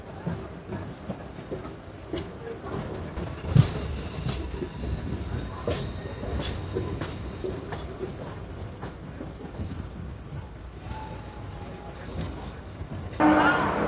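A Mettupalayam to Coimbatore MEMU passenger train running on rails, a steady rumble with rhythmic wheel clacks and occasional squeals, heard from on board alongside faint background voices.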